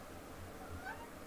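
A house cat gives a short, faint meow indoors over a low background hum.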